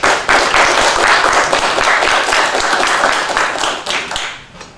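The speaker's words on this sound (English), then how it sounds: "We take a minute to give him a round of applause for Miller." A crowd applauds steadily, dense clapping filling the space for several seconds before tapering off at the end.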